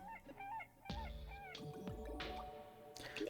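A cat in the video game Terraria meows several times in short rising and falling calls, mixed with other game effects and thumps, fairly quiet overall.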